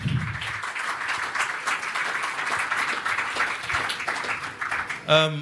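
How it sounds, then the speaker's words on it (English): An audience claps at a 65th birthday celebration, with moderate, uneven applause running under a speaking voice and a short burst of music or voice at the very end. "If you want to clap, clap."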